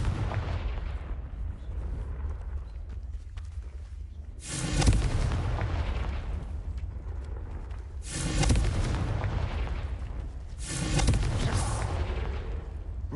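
Explosive Confringo spell blasts in Hogwarts Legacy: three heavy booming bursts spaced a few seconds apart, each a loud broadband impact with a rumbling tail, over a constant low background of game ambience.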